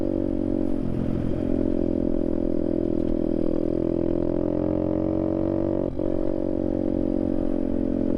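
An RFZ 125cc budget dirt bike cruises in fourth gear, its engine droning loudly and steadily close by with slight throttle changes throughout and no talk.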